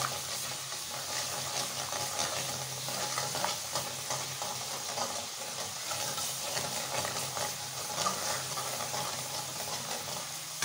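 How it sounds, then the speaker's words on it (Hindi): Ginger garlic paste fries over a slow gas flame, with a soft, continuous sizzle and occasional stirring scrapes, heard close and alone. "जिसको मुझे भूनना है अच्छी तरह, भुनाई करनी है अच्छी तरह 5 मिनट तक, ताकि लहसुन अदरक की जो स्मेल है ना वो भी ख़त्म हो जाए"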